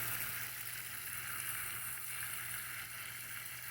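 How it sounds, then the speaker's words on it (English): Water soaking the soil of a bonsai tree on a hot day, a steady broadband hiss and gurgle of flowing water that stays continuous and even throughout, with no voices. "So I'm going to sit here and just soak this one down."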